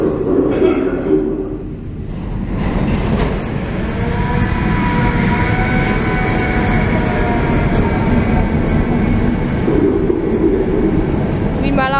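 Small old Budapest metro train at a compact underground stop, a loud rumbling roar with squealing tonal whines and rattling, filling the space; voices talk faintly beneath.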